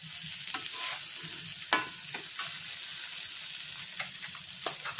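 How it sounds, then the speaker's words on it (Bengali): Poppy seeds sizzle gently in a pan while being stirred and turned for a Bengali pona fish curry, with repeated scraping strokes over a soft, continuous frying hiss. "একটু এপিট ওপিট করে নিচ্ছি যাতে পোস্তটার একটু ভাজা ভাজা গন্ধটা আসে।"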